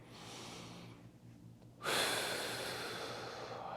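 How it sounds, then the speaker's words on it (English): Slow breath drawn in during a kickstand hip airplane exercise, a soft airy inhale that builds and then becomes a louder, sharper rush of breathing, close to the microphone with no talking. "Breathing in on the way down."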